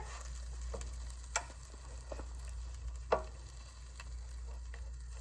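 A quesadilla cooks in a hot pan with a faint, low sizzle and a low steady hum, broken by a few soft ticks and two sharper pops.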